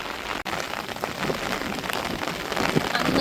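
Heavy rain driven by strong wind in a Tamil village, a dense, continuous hiss of drops striking surfaces, building slightly louder toward the end with no voices.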